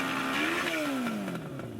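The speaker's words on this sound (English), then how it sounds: "he's going to open the throttle all the way while holding the clutch button. Bike will go up against the two-step, as you can hear" A drag motorcycle engine buzzes against the two-step limiter at full throttle, a loud, rough, steady drone whose pitch rises briefly and then falls into a descending sweep, close and without speech.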